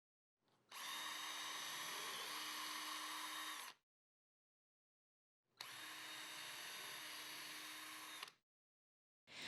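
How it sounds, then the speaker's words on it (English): A power drill bores pilot holes into a Murphy bed front rail in two sustained, steady whirring runs of about three seconds each, separated by silence, with a third starting at the end. "mark and drill 5 pilot holes 7/8 of an inch from the edge-banded lower edge of the front rail"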